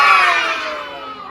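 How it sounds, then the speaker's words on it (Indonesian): Loud shouting from a group of children, a sustained massed yell that swells and then slowly tails off over about a second, heard alone with no speech. "Dibuka lebar, teriak yang keras."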